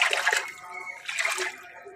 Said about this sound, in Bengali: তারপরে জলটা আমি একটু হালকা করে নেড়ে দিচ্ছি।